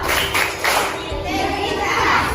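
Schoolchildren in an elementary civics class perform the Tepuk PPK clapping chant, with sharp group claps and voices chanting together in a lively, echoing classroom.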